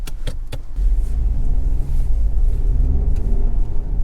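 Nissan Juke 1.0 DIG-T with its three-cylinder turbo engine pulling away, a steady low rumble of engine and road noise inside the cabin following a few sharp clicks at the start, with no talking.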